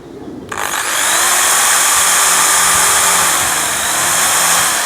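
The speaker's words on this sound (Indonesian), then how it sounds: "Selanjutnya kita akan mengebor besi dengan ketebalan kurang lebih 3 mili." A Dongcheng DJZ10-10 electric drill with a 5 mm bit bores into iron about 3 mm thick, spinning up quickly to a loud, steady high whine that holds for several seconds with slight changes in pitch.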